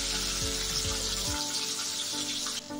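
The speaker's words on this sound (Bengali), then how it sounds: "আমি 2 গ্যাসে ভাজবো।" Fish fries in hot oil on a gas stove for a Bengali katla curry, a strong close sizzle with a few low knocks, which thins out near the end into a quieter hiss.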